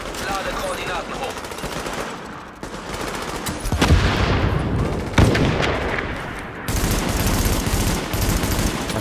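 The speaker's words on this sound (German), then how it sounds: "Beschuss durch leichte Waffen. Unter Beschuss." Light-weapons gunfire in a firefight in the video game The Division: dense, continuous rattling bursts with booming impacts mixed in, loud and sustained over faint game sounds.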